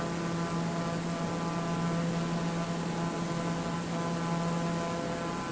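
Steady, loud broadband roar and hum fill an airplane cabin in flight over Mauritania, an unbroken drone with no breaks.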